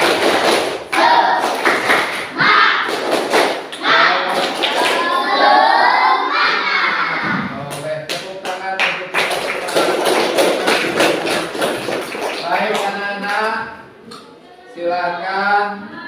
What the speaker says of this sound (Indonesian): Tepuk semangat dulu biar nggak ngantuk ya.